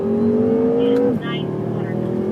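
A BMW M5 engine on a race track holds a steady drone in third gear, its pitch easing then dropping as power comes off, loud and close inside the car, with an instructor talking over it.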